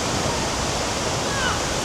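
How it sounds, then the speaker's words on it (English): Water plunges at high speed at Tegenungan Waterfall near Ubud, a dense, continuous roaring rush that stays steady and loud throughout, with no speech over it. "The water is actually coming down at a very high speed"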